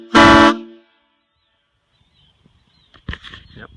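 Homemade PVC train horns fed from an air tank give one loud, short blast followed by silence, then a few faint clicks and a quieter sputtering burst of air.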